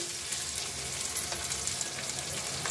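Raw banana pieces frying in a pan give off a steady close sizzle of hot oil with faint stirring scrapes, no voices.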